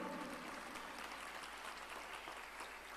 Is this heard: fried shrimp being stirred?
no